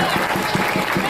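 Audience applause at a speech in Marseille, a steady dense wash of clapping filling the whole moment without pause, fairly loud and close.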